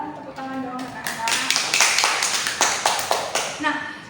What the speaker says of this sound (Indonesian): Tepuk tangan dong anak-anak.